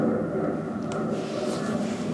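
A passing airplane overhead gives a steady, low, distant-sounding rumble that holds evenly across the short stretch, with no talking.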